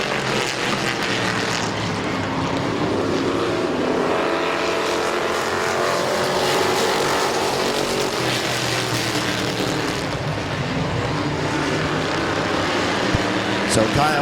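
Race cars roar around the oval at Midvale Speedway, a dense, continuous engine drone with rising and fading passes throughout, loud and steady with crowd and announcer-style talk mixed underneath.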